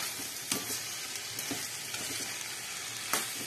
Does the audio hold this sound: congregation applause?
no